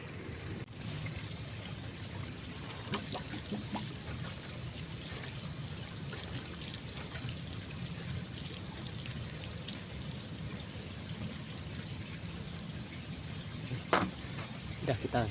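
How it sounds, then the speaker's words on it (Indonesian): Water poured onto very dry soil and stirred while preparing an air layering (cangkok) on a semarang rose apple tree, a steady soft trickle and splash running throughout, close by. "Udah kita siram ya, kita basahin tanah ini, kita aduk."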